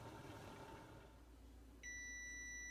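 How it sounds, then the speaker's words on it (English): A kitchen timer goes off while Mexican rice simmers covered on the stove, giving a steady electronic beep that starts abruptly near the end and holds over a faint background hum. "our timer is going off"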